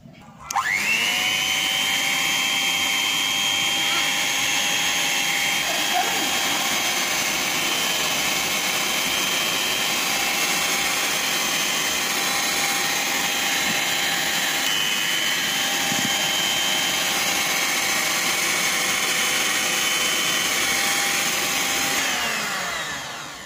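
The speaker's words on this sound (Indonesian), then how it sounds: "lalu bahan-bahan ini kita mixer sebentar" Electric hand mixer whirring steadily through sweet potato cake batter, a loud continuous motor drone that starts abruptly and runs unbroken for over twenty seconds before cutting out.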